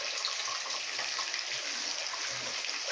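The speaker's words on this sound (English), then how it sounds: "now wash the rice down" Jasmine rice rinsed under a steady stream of running tap water, a continuous bright splashing wash with no pauses, close and fairly loud.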